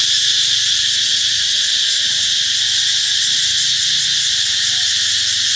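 Cicadas sing in longan trees in a dense, loud, continuous buzzing drone that fills the whole stretch without pause.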